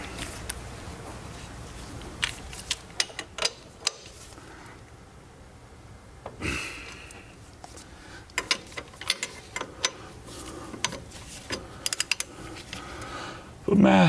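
A ratchet wrench tightens suspension bolts on a BMW E36 M3 front end, with bursts of close mechanical clicking and clanks of tools in a garage, separated by quieter stretches.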